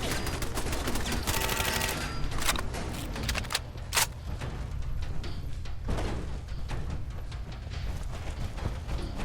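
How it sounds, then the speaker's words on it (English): Sentry turrets in Fallout 4 open fire in rapid automatic bursts, loud clattering gunfire packed with sharp reports, dense at first then continuing in uneven volleys with a steady low background drone. "Now we've activated the sentry turrets."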